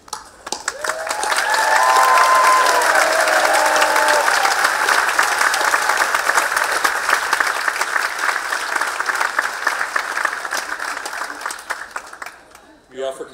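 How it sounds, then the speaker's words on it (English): A graduation audience applauds the graduating students of a school of the environment, steady dense clapping that swells, holds, then fades near the end, with faint voices mixed in. "Students, we appreciate you and your dedication, and we applaud you."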